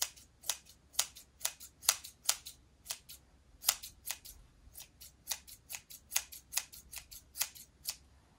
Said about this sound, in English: I just gave mine a pretty good snip.